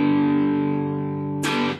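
Electric guitar with light overdrive through an old Fender amp, playing a riff: one loud sustained chord ringing out, then a sharp strummed attack near the end, no voices.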